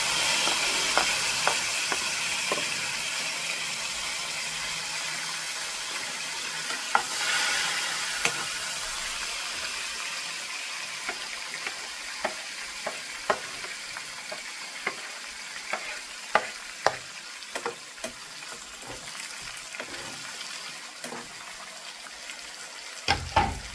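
Tomato, onion and green chili sizzle in a pan for a long stretch, the steady frying hiss broken by scattered scraping clicks as a spoon stirs and turns the mixture.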